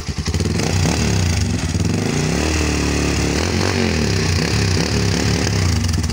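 A Motorstar Explorer 250 motorcycle engine with its silencer removed revs loudly and continuously, the raw unmuffled exhaust rising and falling in pitch throughout, close to the microphone with no talking.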